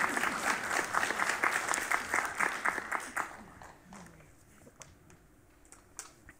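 Audience applauds at Natalie Diaz's poetry reading, a full burst of clapping for about three seconds that thins out into scattered claps and quiet room sound.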